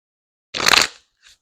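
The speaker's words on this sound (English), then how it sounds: "Let me do another shuffle." A short, crisp riffle of tarot cards lasting about half a second, then a faint soft tap, close by in a quiet room.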